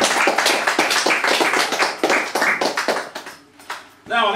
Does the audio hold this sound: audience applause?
yes